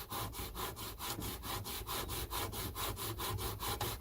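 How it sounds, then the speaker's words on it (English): A guitar body made from a camper van biscuit tin is rubbed back and forth against sandpaper on a flat bench, with rhythmic, evenly spaced scraping strokes, close and steady, and no voices. "then sand away on a flat surface or on a block or whatever"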